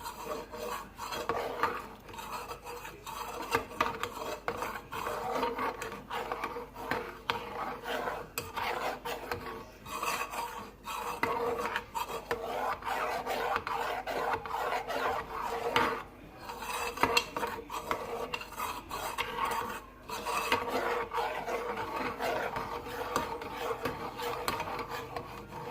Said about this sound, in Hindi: बस अब हम इसे हिलाते जाएंगे।